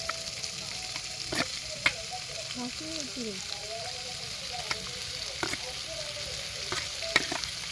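Sliced onions fry in a pan with browned ginger garlic paste, giving a steady loud sizzle with scattered stirring scrapes and clicks from a spoon throughout.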